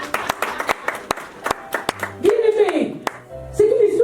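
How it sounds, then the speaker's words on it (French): A church congregation at a French-language evangelical ceremony claps in scattered, sharp handclaps, close and fairly loud, while a voice talks and calls out across the second half. "On peut acclamer pour la cérémonie."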